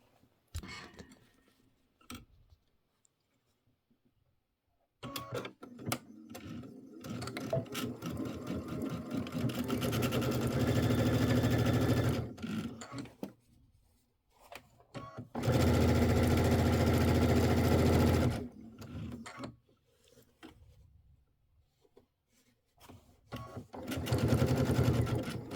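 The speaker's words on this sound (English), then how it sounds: "I'll take the big pieces and sew them all together." Sewing machine piecing large fabric sections together for a quilt back, running in two sustained whirring bursts of several seconds each, close and loud, with quiet handling and pauses between.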